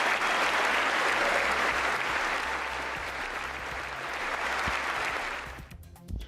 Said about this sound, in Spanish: Una ovación completa en el momento en el que el presidente Joe Biden anuncia este cierre al espacio aéreo